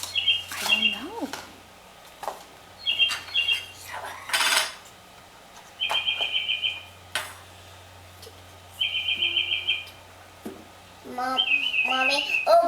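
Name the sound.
bird sounds played from a tape recorder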